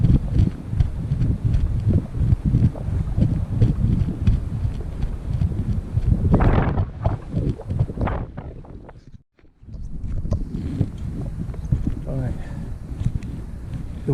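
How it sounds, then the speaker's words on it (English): Gusty wind buffets the microphone beside a river in Patagonia during fly fishing, a steady low roar that swells and drops, briefly cutting out near the end, with someone talking over it. "The wind, the good thing about it is it isn't a consistent gust"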